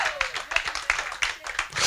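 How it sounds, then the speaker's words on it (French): A church congregation clapping in praise, a quick rhythmic series of sharp claps filling the space, fairly close and continuous. "Applaudissons pour la gloire de Dieu."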